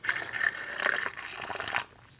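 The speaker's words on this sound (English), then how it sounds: "This is the tedious part where you just got to pour a little bit, let it settle, pour a little bit, let it settle." Coolant poured in short bursts into the radiator of a 2015 Toyota Highlander, a faint trickling and gurgling that starts and stops a few times, then goes quiet near the end.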